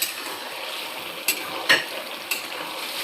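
Duck curry masala fries and sizzles in a pan on a gas stove, a soft steady hiss broken by three quick scraping strokes of the stirring spoon.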